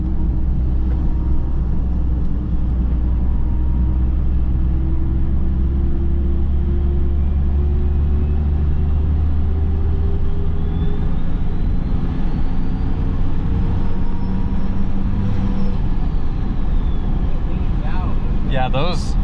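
A compound-turbocharged 5.9L Cummins diesel truck rolling coal rumbles loud and close in a constant heavy drone, with a faint turbo whine rising and muffled voices in the background.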